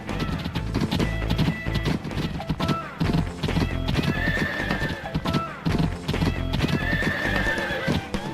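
Horse hooves clip-clop steadily on a mount ridden in a Nintendo Switch game, a continuous loud trotting rhythm with occasional whinnies, all over a busy game music track.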